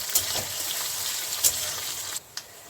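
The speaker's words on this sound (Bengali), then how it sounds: "এই যে আমার পেঁয়াজটা ভাজা হয়ে গেছে" Chopped onion frying in hot spiced oil for khichuri, a steady close sizzle with a few brief crackles, dropping away abruptly near the end.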